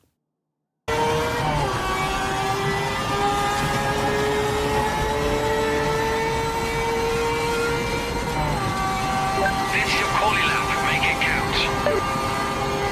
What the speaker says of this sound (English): let's listen to Project Motor Racing's version of that